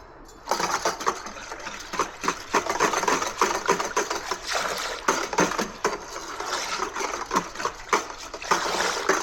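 A Taylor 430 frozen cocktail machine mixes a batch of frozen drink, giving a steady, loud mechanical whir with rapid rattling pulses throughout, close by and uninterrupted by speech.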